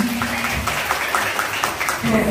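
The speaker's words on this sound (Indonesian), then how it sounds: "Tepuk tangan buat kita semua." A crowd claps together in steady, dense applause, moderately loud, with a voice heard underneath.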